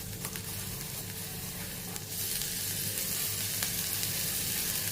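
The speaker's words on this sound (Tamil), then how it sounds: "ஒரு 1/4 டீஸ்பூனு சீரகம் போட்டுக்குருவோம்." Cumin seeds and grated ginger sizzle in hot oil in a kadai, a close, continuous frying hiss that grows slightly louder partway through.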